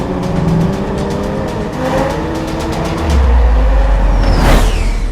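Brand-new Toyota Supra sports cars performing precision driving stunts: a steady engine drone that swells into a loud, close rush as a car sweeps past, with a tire squeal at the end.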